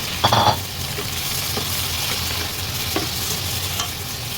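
Shrimp stir-fried in chicken oil in a hot pan for sotanghon gisado, a steady close sizzle with a few stirring scrapes and clinks throughout.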